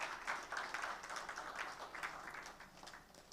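An audience at a book launch applauds: a quiet, steady wash of many hands clapping at a distance, continuous for the whole stretch with no single claps standing out.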